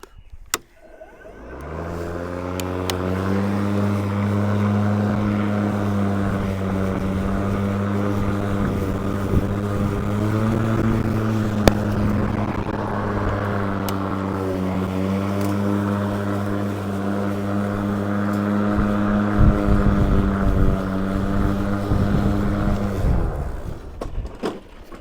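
An Ego commercial battery lawn mower running at its highest speed setting, a steady loud motor whine with a strong low hum that spins up, holds for about twenty seconds, then winds down.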